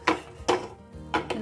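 Spoon scraping cashew-corn batter out of a pan onto a ghee-greased plate, three short close clinks and scrapes of metal cookware separated by brief pauses.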